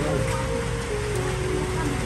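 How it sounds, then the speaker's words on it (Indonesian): Steady rain hissing broadly, with a constant low rumble beneath; the downpour stays even throughout without pauses. "Hujan lagi nih toh."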